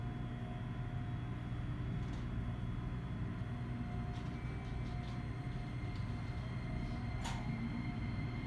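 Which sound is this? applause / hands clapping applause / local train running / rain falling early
local train running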